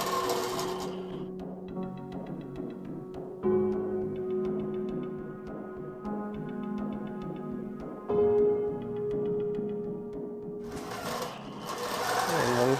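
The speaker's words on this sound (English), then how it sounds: "we'll get quilting with this one" Sewing machine doing free-motion quilting of continuous curves with a small needle, a loud rapid steady needle chatter in long runs with brief pauses and shifts in speed.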